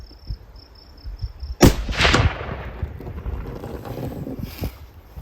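A single loud rifle shot from a 338-378 Weatherby loaded with a 250 grain Speer Grand Slam bullet cracks once outdoors and rolls away into a fading echo over wind noise.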